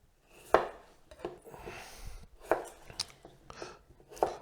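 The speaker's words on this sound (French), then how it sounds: "maintenant il ne nous reste plus qu'à les couper en morceaux" Peeled potatoes being cut into pieces for a Spanish tortilla, a knife striking the board in about six sharp, separate chops at an uneven pace, close and clear with no talking.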